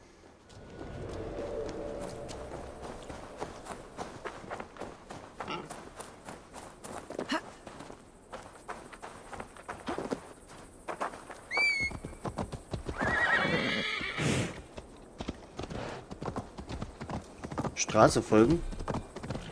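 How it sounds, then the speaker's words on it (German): Horse hooves clip-clop at a gallop with neighs and whinnies while riding in Assassin's Creed Valhalla on PS5, a steady rhythmic drumming under frequent game speech and music. "Da muss ich fast hinreiten, oder? Da müssen wir reiten."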